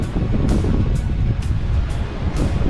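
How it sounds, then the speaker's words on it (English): Strong wind gusting outdoors on a cold day as temperatures drop, a loud, steady roar and rumble buffeting the microphone throughout, with no voices. "I don't know if you can hear all that wind."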